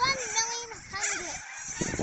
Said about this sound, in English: The cockies are being loud.